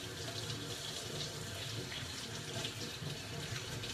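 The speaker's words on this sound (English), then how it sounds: "rinse my hands here." Tap water runs steadily into a sink while hands are rinsed in a home kitchen during food prep, a continuous soft splashing hiss with no pauses.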